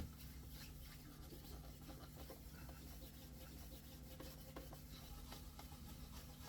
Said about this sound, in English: So I'm just going to do some polishing.